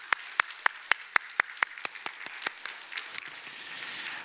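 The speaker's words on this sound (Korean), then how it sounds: "우리 박수 한번 쳐주세요." A church congregation at a Sunday worship service claps in a steady, evenly spaced rhythm, a dozen or so sharp unison claps that loosen into scattered, fading clapping, heard at a moderate distance in a reverberant hall.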